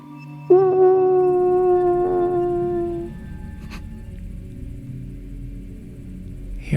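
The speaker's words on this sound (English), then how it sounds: "hear a howl of something in the distance, but closer than you'd like." A single distant howl sound effect plays during a tabletop roleplaying game: one long, wavering cry rises and holds for a few seconds, then fades into a low, rumbling outdoor ambience.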